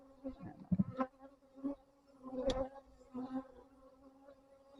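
Honeybees hum around an open long hive while it is being closed back up, a steady continuous drone with louder swells as individual bees fly close past, no talking.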